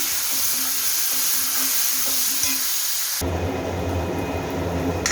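Finely chopped tomato sautés in a pan for shev bhaji, a continuous loud sizzle with occasional stirring scrapes, turning into a denser, fuller hiss partway through.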